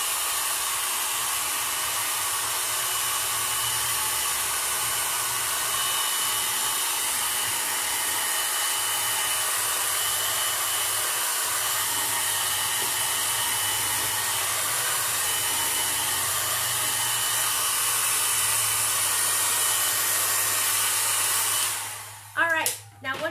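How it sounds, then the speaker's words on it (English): A hairdryer blows steadily and loudly on a wet watercolor flower painting, a continuous whooshing hiss lasting over twenty seconds before it cuts off abruptly near the end. "hairdryer."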